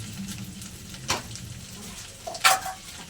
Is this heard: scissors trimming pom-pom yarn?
no